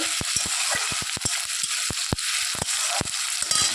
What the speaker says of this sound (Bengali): দেখতেই পাচ্ছ মশলাটা কষে নিচ্ছি